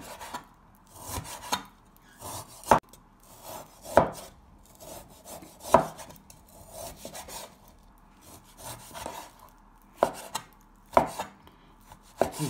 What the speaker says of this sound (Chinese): 这羊肉切大块